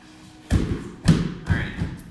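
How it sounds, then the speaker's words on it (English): Three heavy thuds of side-of-hand strikes on a Wavemaster freestanding punching bag, about half a second apart, close and fairly loud over a quiet room. "So I'm going to use the wave master for my target."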